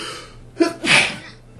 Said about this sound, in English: Okay then, I'm going to sneeze.